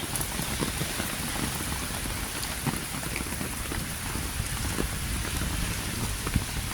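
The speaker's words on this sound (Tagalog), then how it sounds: "At kami ay naabutan ng ulan." Steady rain pours down in Hong Kong, a dense continuous hiss with scattered drops tapping on a surface nearby, unbroken throughout.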